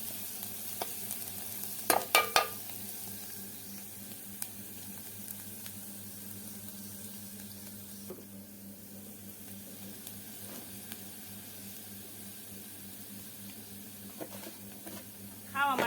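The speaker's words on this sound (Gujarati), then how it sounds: "રાઈ મેથી ને હળદર નાખવાનું ધીરે સાથે ચોળવાનું" Mustard seeds, fenugreek and turmeric tipped into a pan of hot oil for a Gujarati drumstick sambharo, giving a faint, steady sizzle with a few sharp clinks of stirring, under quiet talk.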